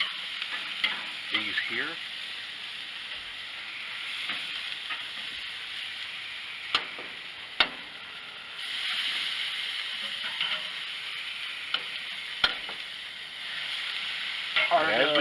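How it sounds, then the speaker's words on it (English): Marinated eye of round steak sizzles on a grill in a steady, hissing crackle, with occasional sharp pops and clicks of utensils; a voice speaks briefly. "some of that juice falls down into the flame, causing it to kind of flare up a little bit"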